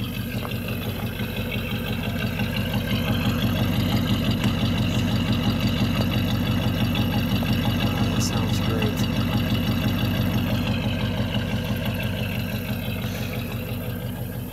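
Engine of a customized 1939 Oldsmobile convertible idling smoothly with a steady, even exhaust pulse throughout, close and continuous.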